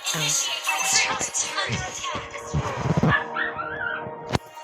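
A small dog yips and barks excitedly at close range during a Mobile Legends game, with a few whimpering notes mixed in and a sharp click near the end.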